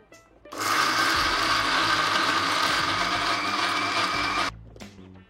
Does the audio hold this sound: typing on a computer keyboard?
no